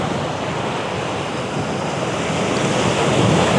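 Ocean surf rolls onto a beach on Florida's 30A coast, a steady, loud wash of breaking waves mixed with wind buffeting the microphone, growing slightly stronger toward the end, with no voices.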